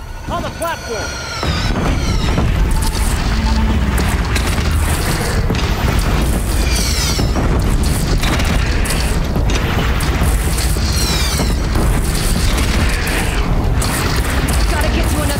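Loud, dense game combat with repeated heavy cannon booms fired from a platform and mechanical clatter, with voices talking over the constant action.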